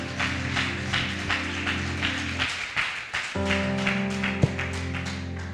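A church congregation applauds its pastor during a Sunday celebration service, steady dense clapping that runs throughout over sustained music, with a short dip midway before both pick up again.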